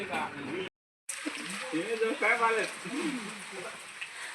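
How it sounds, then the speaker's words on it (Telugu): Rain falls steadily on an open field during a bean harvest, a constant broadband patter heard beneath people talking, with one brief dropout partway through. "వాన పడుతుంది వెళ్దామా"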